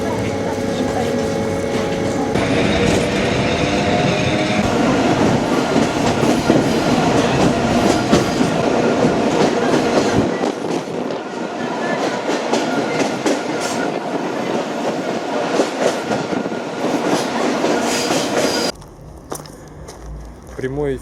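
Steady rumble of an electric commuter train riding along in Dagestan, Russia, with rhythmic wheel clatter and faint voices in the carriage; the noise drops briefly near the end.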